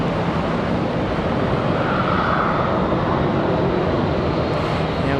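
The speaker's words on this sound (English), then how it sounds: "Got a United getting ready to cross this screen." A United airliner crosses near Charlotte airport, its jet engines a steady, broad roar that holds at an even, loud level throughout with no talking.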